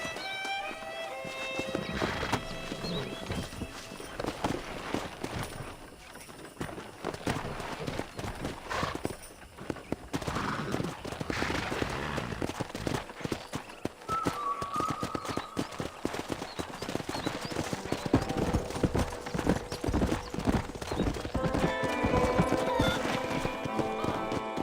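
Horses in the Red Dead Redemption video game, with hooves clip-clopping steadily and several whinnies over game sounds and music, the hoof beats close and continuous throughout.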